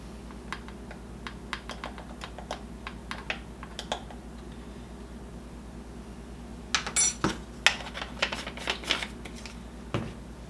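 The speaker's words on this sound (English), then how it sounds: "And we'll just go ahead and get this all mixed up." A whisk or spoon clicks and taps against a bowl while French toast egg batter with salt and cinnamon is mixed. Sparse light clinks at first, then a quicker, denser run of taps near the end, close by.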